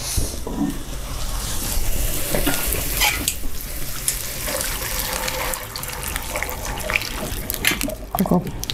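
A little boiled drinking water goes into a hot pan during home stir-fry cooking, giving a steady sizzle with scraping and stirring throughout, close and fairly loud, with voices talking over it.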